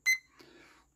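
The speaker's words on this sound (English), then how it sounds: "set a 5-minute timer here." A short electronic timer beep, two quick tones up front followed by a softer trailing chirp, close and alone.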